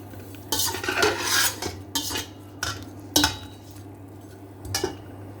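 Stirring and mixing in a cooking pot while onions cook in oil for mutton yakhni pulao, with spoon scrapes and clinks of cutlery against the pot in a few distinct bursts, close and moderately loud, no talking.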